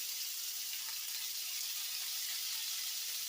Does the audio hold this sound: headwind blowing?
no